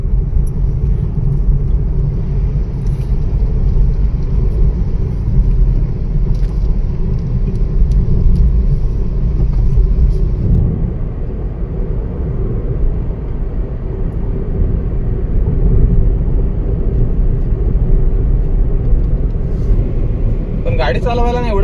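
A car cruises along the Mumbai–Goa highway with a steady, loud low engine and road rumble throughout, a constant in-cabin drone with a brief brighter noise near the end.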